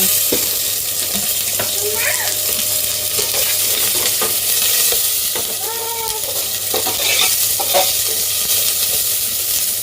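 Green chillies fry in a small amount of hot oil with curry leaves for pepper chicken, giving a steady, close sizzle throughout with occasional scraping and stirring sounds on top.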